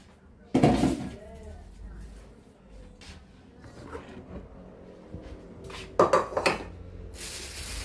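A pot of stuffed vegetables (dolma) is set onto a kitchen stove with a sharp metallic clank, followed by softer pot and lid clatters and a second cluster of knocks near the end, close and fairly quiet.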